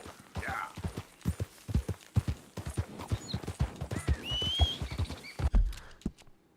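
Horse hooves in a video game pound in a fast, steady gallop, loud and close, with a short whinny partway through and some thumps near the end.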